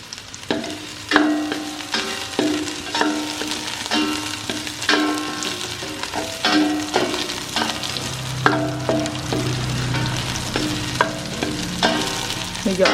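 Garlic and red onion sauté in just a little oil in a pan for sinigang, with a steady bright sizzle broken by repeated clattering stirs and scrapes throughout, close and fairly loud, with no voices.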